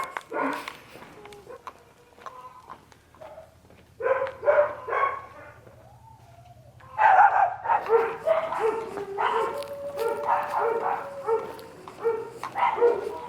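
Several caged dogs bark and yelp in irregular bursts, with a faint howl drifting between them, some near and some farther off.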